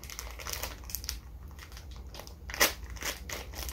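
A bag of extremely hot cereal being cut open, giving sparse crinkly snips and rustles with one sharper crisp cut near the end, close and fairly quiet, with no talking.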